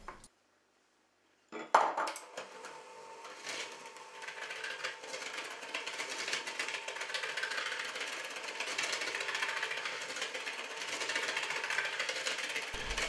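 An electric mixer whirs steadily through soft butter and a sugar mixture in a mixing bowl for cheesecake batter. After a short silence it starts with a jolt, then runs as a continuous buzzing, rattling drone with beaters clattering against the bowl.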